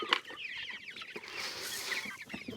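Several small young chickens cluck and peep softly nearby, a busy scatter of quick chirpy calls with faint rustling underneath.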